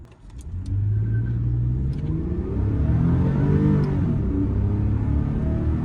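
A 2015 Toyota Venza V6 accelerates hard with a bit of wheel spin, its engine rising and building loudly from inside the cabin over several seconds, with a brief faint squeal early on.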